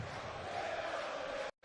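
A German crowd at a European Darts Matchplay match cheers and roars in a steady, dense wash of voices, loud and sustained, before cutting off abruptly near the end.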